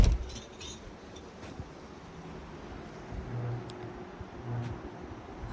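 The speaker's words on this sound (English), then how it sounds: "we can hear a big old truck going by. There's the highway right there" A big truck on a nearby highway, heard from an outdoor deck near the Trinity River at sunrise, gives a steady distant rumble that swells slightly as it rolls past.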